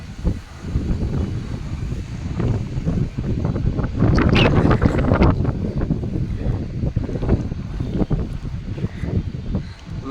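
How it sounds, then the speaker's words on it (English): Steady wind buffeting the microphone outdoors in a shady area at a hotel in Manila, a loud rumbling roar that gusts stronger midway, with no talking. "It's a bit windy"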